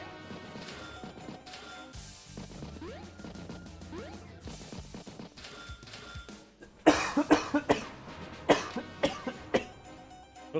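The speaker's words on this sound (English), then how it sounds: "As I was coughing" A person coughs repeatedly during an Advance Wars by Web replay commentary, a run of sharp, close, loud coughing bursts in quick succession after quieter game sounds.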